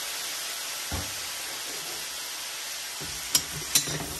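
Pancit miki noodles fry in a pan with a steady sizzling hiss, while a utensil stirs and scrapes in a few short bursts near the end.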